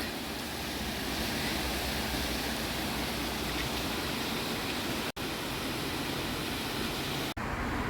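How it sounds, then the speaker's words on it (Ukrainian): A waterfall beside a hillside path leading up to a hotel in Limone sul Garda, Italy, roars as a steady, dense rush of falling water close by, with no other sounds standing out. "На нашому шляху водоспад."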